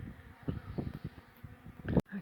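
Bees buzz faintly with a low, wavering hum during the relocation of a large beehive from a Telstra pit. The drone pulses unevenly over a couple of seconds and ends in a sharp click.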